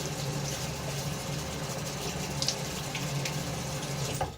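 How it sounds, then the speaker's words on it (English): A water tap runs steadily into a sink while water is splashed onto the face before a wet shave, a continuous close hiss with faint splashes and no talking. "I want to apply just a normal amount of water, as usual, to my face before the lather."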